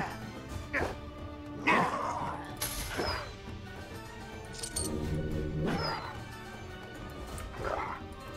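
Dogs in the Lionheart video game yelp, yip and whimper in several sharp, spaced bursts, mixed with smashing and thwacking impacts against a busy game background.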